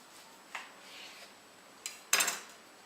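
A knife cuts a ham and pea cake, giving a few faint scraping clicks and then a louder crisp scrape of the blade against a dish near the end, with no talking.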